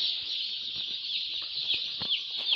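A flock of broiler chickens at brooding stage clucks and chirps steadily in a dense, continuous chorus, with a few louder peeps and squawks standing out near the end.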